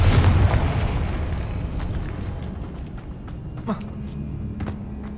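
A loud Confringo spell explosion in the Hogwarts Legacy video game booms at the start and fades into a rumbling tail, followed by a few faint pops and crackles.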